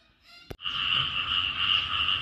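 Frogs croak in a dense, steady chorus that sets in after a brief click and then holds loud and continuous in a Thai night setting.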